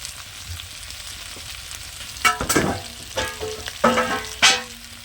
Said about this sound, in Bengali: এবার একটু খুন্তি দিয়ে ভালো করে মিশিয়ে দেবো